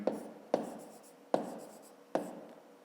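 A pen writes figures on paper during a fifth-grade maths exercise: four sharp, close strokes or taps, each trailing into a soft scratch, spaced roughly evenly apart with no talking.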